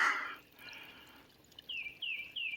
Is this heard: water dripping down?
yes